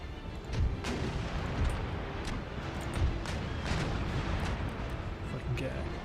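Ship cannons fire chain shot at enemy masts in Empire Total War, a steady rumble of broadside blasts and booming reports continuing throughout with scattered sharper cracks, no voices.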